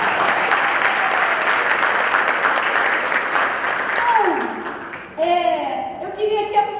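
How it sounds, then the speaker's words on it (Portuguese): Seminar audience applauding: dense, steady clapping from a crowd fills most of the stretch, thinning toward the end as a voice begins speaking over the last of it. "Salve de palmas para ele também."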